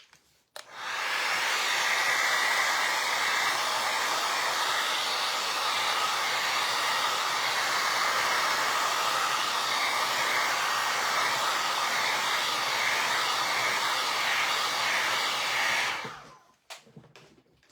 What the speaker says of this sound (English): I'm gonna dry that real quick because I don't want it to be smeary, I want it wispy